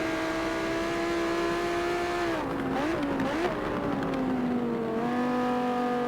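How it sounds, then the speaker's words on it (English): A race car engine in a racing video game holds a steady drone, then its pitch dips and climbs as the revs change through corners before settling into a higher steady whine, with no talk. "There's the different revs"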